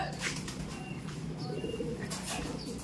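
Pigeons coo in soft, repeated calls at close range, with faint chirps and light wing movement in the background.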